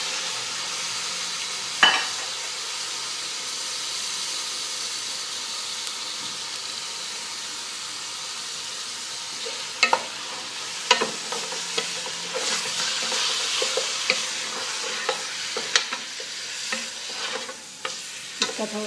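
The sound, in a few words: green chilies frying in butter in a pan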